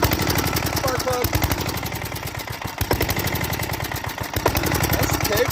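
An old lawnmower engine runs loud and close, a fast, steady put-put of firing strokes that wavers slightly in pace, with a few brief higher tones over it.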